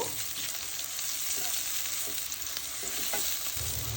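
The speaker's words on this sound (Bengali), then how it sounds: "ভালো করে নেড়ে লবণ পেঁয়াজের সাথে মিশিয়ে নিব" Onions with salt and garam masala fried in a pan and stirred, a dense close sizzle broken by the scrape and clack of the spoon, continuous throughout with no voices.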